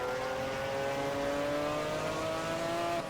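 Race car accelerating in the racing video game Project CARS: a loud, steady engine drone with rising harmonic pitch throughout, no talk over it.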